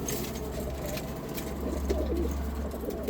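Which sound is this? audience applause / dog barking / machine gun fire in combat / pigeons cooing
pigeons cooing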